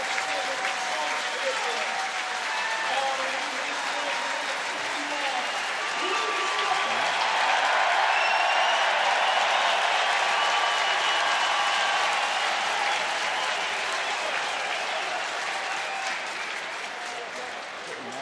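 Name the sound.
rugby stadium crowd cheering for club captain Lewis Ludlam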